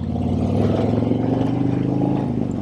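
A Harley-Davidson Road Glide motorcycle engine rumbles close and loud with a steady, throbbing low pulse that holds even throughout.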